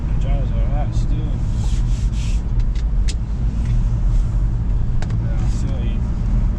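A used BMW bought cheaply, driving along with a steady engine and road rumble inside the cabin, broken by small knocks and brief squeaks, with people talking over it.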